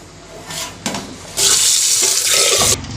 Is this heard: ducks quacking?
no